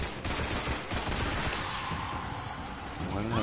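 Gunfire in the sci-fi shooter game Destiny crackles in dense, overlapping bursts throughout, with sharp shots and a busy, continuous battle texture.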